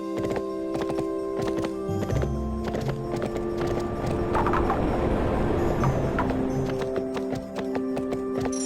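Horse hooves clip-clopping steadily with a neigh, in the video game Barbie Horse Adventures: Wild Horse Rescue on a forest trail, set over looping background music.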